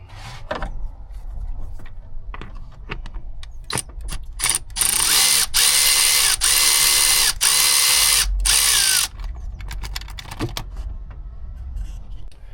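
Ratchet clicking while undoing connectors and a sensor on a VW Crafter campervan engine with engine failure, close and loud, with quick tool taps and a sustained rapid ratcheting run in the middle.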